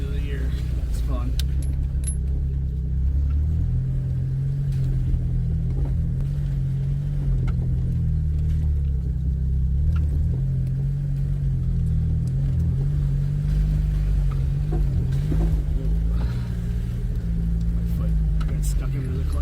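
A 2001 Jeep TJ crawls along a sloppy dirt road in four-wheel drive, low third gear, its engine a steady low drone with rattles and jangles from the cabin, while a driver talks over it.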